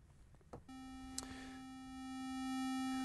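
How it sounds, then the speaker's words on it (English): A steady synthesized square-wave tone holds after a brief click, buzzy and rich in evenly spaced overtones, continuous and alone, growing slightly louder toward the end. "if I even change my waveform here in this synthesizer to square"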